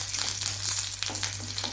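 Curry leaves hit hot coconut oil with already-popped mustard seeds, giving a close, crackling sizzle with a few sharper spits and pops over a constant frying hiss.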